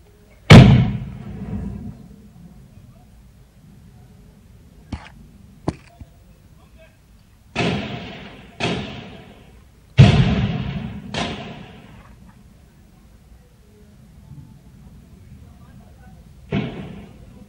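Gunfire exchanged between security forces and attackers during an assault on the Chinese consulate in Karachi: sharp isolated bangs and a few short bursts, some distant cracks, with quiet rumbling gaps between shots and no clear talk.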